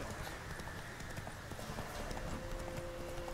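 Roach the horse gallops in The Witcher 3, a rapid, steady clip-clop of hooves under a dense wash of game ambience.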